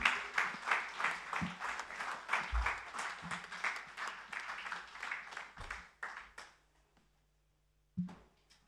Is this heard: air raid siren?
no